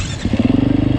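A 2024 Beta 390 Race Edition dirt bike on a wet, slippery trail idles with a steady low pulsing putter, close and fairly loud, as the engine runs down toward stalling.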